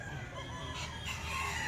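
A rooster crows at a chicken market where birds are sold in pairs, a single drawn-out crow held through the short moment, close and moderately loud over background hum.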